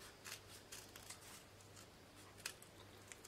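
Scissors snip through card stock while cutting away excess for insoles, a quiet, close series of crisp repeated cuts with faint rustling.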